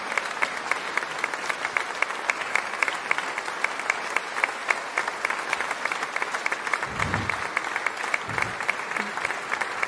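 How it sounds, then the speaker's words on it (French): Sustained applause from a concert audience after a harmony orchestra performance, dense steady clapping throughout, fairly loud and close, with a few low murmurs near the end. "les applaudissements plus que mérités"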